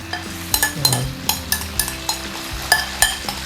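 Salted egg yolk melting in butter in a pan and being stirred: a spoon clinks against the pan about once every half second in a steady rhythm over a soft, close sizzle, with no talking.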